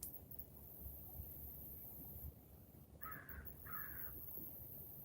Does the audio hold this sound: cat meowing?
no